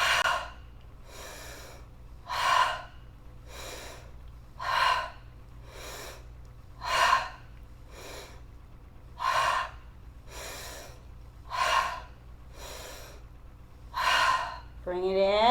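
Rhythmic yoga fire breath, with about a dozen sharp, evenly spaced breathy bursts of air in and out through the nose, close and fairly loud, over a low steady background hum.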